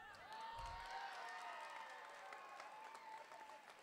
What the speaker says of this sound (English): maybe give them another clap